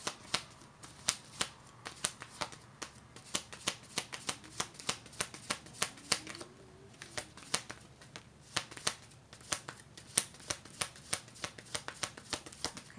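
Sacred geometry oracle cards shuffled and drawn by hand, a steady run of crisp riffling snaps and soft slides for the whole stretch, close and fairly quiet with no talking.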